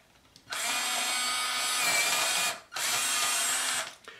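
An electric pencil sharpener whirs loudly on a Hi-Uni B drawing pencil in two sustained grinding runs, with a brief pause between them.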